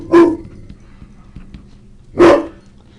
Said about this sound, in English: As soon as one dog in the neighborhood goes off, he goes off too.